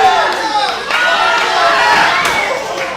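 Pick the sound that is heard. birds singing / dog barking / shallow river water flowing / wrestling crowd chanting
wrestling crowd chanting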